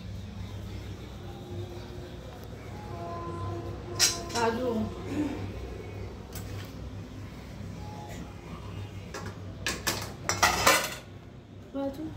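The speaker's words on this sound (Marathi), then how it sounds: "आता मी चाळणीमध्ये पास्ता काढते।" Pasta being drained from a pot into a metal colander in a home kitchen, with clanks and clatters of the pot and strainer in bursts and a brief rush of pouring water.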